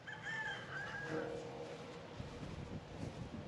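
A rooster crows at a distance, its call rising then trailing off, over steady outdoor background noise.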